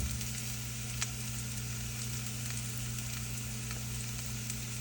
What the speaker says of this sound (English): We're going to saute this for about a minute or so, add the garlic, and then the hamburger.